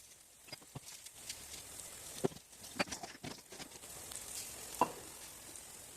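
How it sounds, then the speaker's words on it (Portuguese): Steady crackling sizzle of a Swiss potato rösti frying in oil, with scattered pops and light clinks throughout, fairly quiet and close. "Vamos deixar aqui agora fritando."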